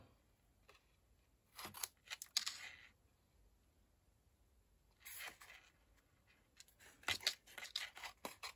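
Scissors snip through paper for a spiral bound journal tag in a quiet room, the cuts coming in three short bursts of crisp clicks and snips separated by silent pauses.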